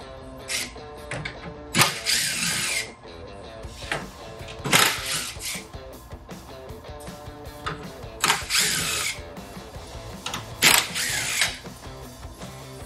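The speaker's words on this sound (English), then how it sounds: "I'm gonna use an impact wrench." An impact wrench buzzes in several short, loud bursts, with ratcheting and clicking between them, as it removes the grille bolts on a RAM 1500 pickup truck. No one speaks.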